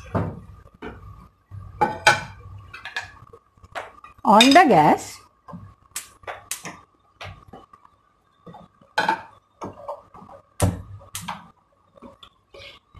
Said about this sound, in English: Now I will keep a pan on the gas.